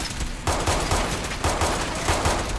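Rapid gunfire in Fallout 4 crackles through a short burst, several loud shots in quick succession with a dense, continuous rattle between them.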